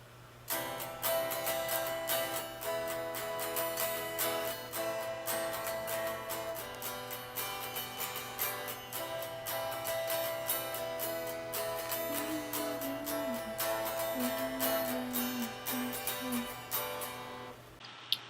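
An acoustic guitar strums the bridge of a song, a steady chord progression with a few picked melodic notes rising out of the strumming, alone and without voices.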